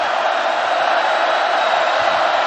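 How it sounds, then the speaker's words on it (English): A football stadium crowd at Oregon's home game against UC Davis roars in a steady, dense, loud wash of massed voices that holds without letup. "crowd starting to roar"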